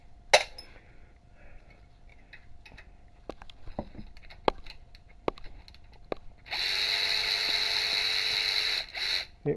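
A Harbor Freight ratchet removes the brake caliper bolts on a Ford Explorer's rear knuckle. Scattered clicks and clinks of metal come first, then a sustained, smooth ratcheting buzz lasting a couple of seconds, up close.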